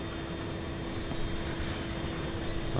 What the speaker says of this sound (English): it's a pretty long train going the other way